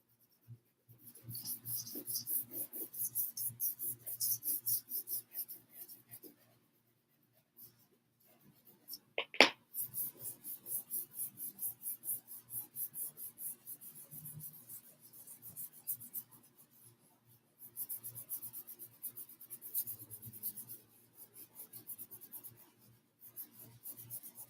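Soft pastel rubbed and scraped across drawing paper in a studio, a dry rasping scratch in repeated strokes with brief pauses, close and fairly quiet, alone without voices.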